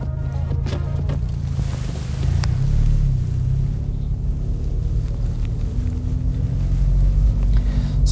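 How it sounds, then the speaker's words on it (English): A 2020 Renault Megane RS Trophy with its exhaust set to race mode gives a deep, steady low rumble that swells slightly partway through, heard from inside the car with no talking. "immediately I can hear the exhaust sound that we did set to race, and there's a much deeper note to that"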